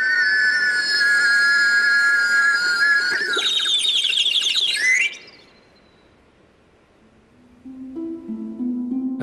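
Water-driven whistle imitating birdsong: steady high whistling tones slide into a rapid, warbling trill like birdsong, then fade to near silence before softer, lower whistles return.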